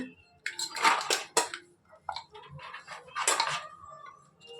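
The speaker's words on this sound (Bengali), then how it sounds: "ডালটা একটু ঘেঁটে নিতে হবে যাতে তলায় না লেগে থাকে।" Mung dal being stirred in a cooking pot for khichuri, with scattered clinks and scrapes of a utensil against the pot in short, uneven bursts, fairly close and moderately loud.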